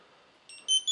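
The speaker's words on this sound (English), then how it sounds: "There's our beep." Faint background hiss followed by a few short, high electronic beeps from a Zebra RS507 ring barcode scanner near the end, getting louder.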